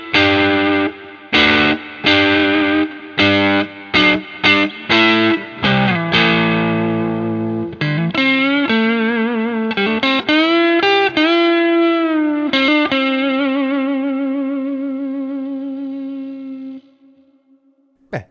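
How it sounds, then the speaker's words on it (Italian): An Arrow Telico Telecaster-style electric guitar on the neck pickup with a crunchy overdriven tone: a run of choppy strummed chords, then ringing sustained notes and chords that slowly decay, played alone and up close. "andiamo a sentire un po' di suoni crunch. Cominciamo con il pick up al manico."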